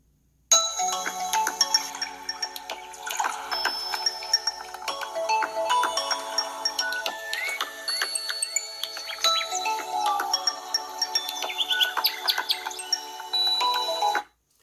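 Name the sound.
BLU Vivo XI+ phone ringtone and notification sounds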